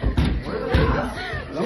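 Heavy thuds of a door being hit or slammed during a protest break-in at a college, loud booming impacts under crowd noise and chanting voices.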